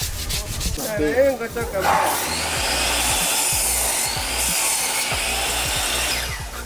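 Wood being sanded by hand at an off-grid cabin build site, with a loud, continuous close rubbing and scraping of abrasive strokes on the surface.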